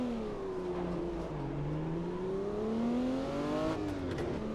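A race car engine in the sim racing game Automobilista 2 drones alone at low volume, its pitch dipping and then climbing steadily as revs change, with a brief shift near the end.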